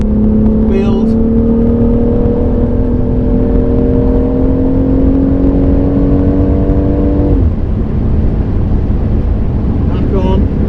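A car on track at Goodwood gives a loud, steady engine drone close to the microphone that rises slowly in pitch, then drops off sharply near the end, with wind noise throughout.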